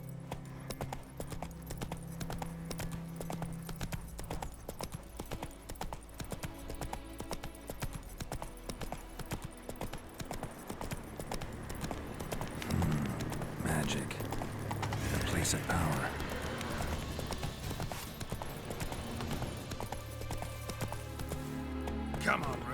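Horse Roach's hooves clip-clop at a steady gait in The Witcher 3: Wild Hunt, continuous rhythmic hoofbeats over game ambience and music, with a rider speaking briefly.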